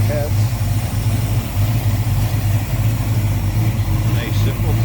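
A 1970 Dodge Dart Swinger's 360 V8, fitted with an Edelbrock Performer intake, Holley carb and Edelbrock aluminum heads, idles with a steady, deep, throaty rumble that holds even and continuous.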